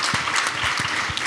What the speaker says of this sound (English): let's give another round of applause to the panel.